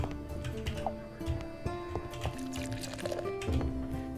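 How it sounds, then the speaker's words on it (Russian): Water pouring from a barrel in the tavern game Travellers Rest, a soft liquid trickle set against light game music with short chimes and clicks, moderately quiet. "Я подаю воду из бочки"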